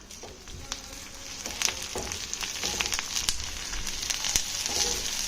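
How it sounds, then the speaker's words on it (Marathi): Onion fries in oil in an iron kadai for a dry prawn curry, a continuous close sizzle with scattered sharp crackles and pops, no voices. "तेल टाकून आता आपला कांदा आहे ना तो मस्तपैकी गोल्डनमध्ये सोलो फ्राय करून घ्यायचा आहे"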